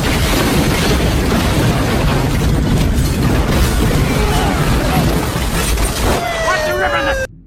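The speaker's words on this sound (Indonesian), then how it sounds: "Puluhan anak buah John tewas dalam ledakan dari beberapa jebakan bom yang dipasang oleh Jack." Bomb trap explosions in an action film, a dense, loud, sustained blast roar with crackling debris filling the whole stretch before cutting off abruptly near the end.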